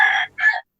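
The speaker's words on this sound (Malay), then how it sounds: "Siapa bela ayam tu?" A chicken crowing nearby, a loud two-part call with a brief break in the middle, close and clear, ending abruptly into silence.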